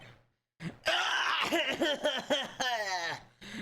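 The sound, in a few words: throat clearing in Ace Attorney video game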